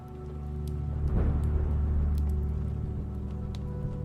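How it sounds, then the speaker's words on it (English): Light rain falls on a city street at night, a steady soft hiss over a low rumble that swells slightly after the first second and then holds. No one speaks. "protecting your camera from the light rain."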